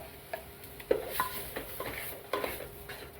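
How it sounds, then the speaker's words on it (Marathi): Ground wet masala paste being stirred and fried in oil in a pan while cooking a Maharashtrian festive meal, with soft scraping stir strokes and a few light clinks over a quiet sizzle, no talking. "वाटण वाटलेला हा मसाला त्यामध्ये टाकू"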